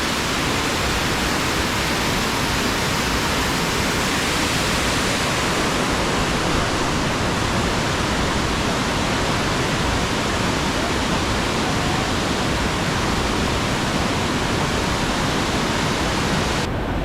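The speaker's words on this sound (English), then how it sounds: "this is the biggest waterfall here" The biggest waterfall at Cat Village in Sapa, Vietnam, a loud, unbroken roar of falling water heard up close, dense and constant throughout with no voices.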